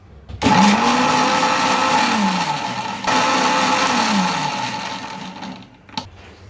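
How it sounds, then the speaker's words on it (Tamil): A kitchen blender grinds aloe vera gel and ginger with water in two steady whirring pulses, with a short stop between them, loud and close. "விட்டு விட்டு அரைக்கணும்."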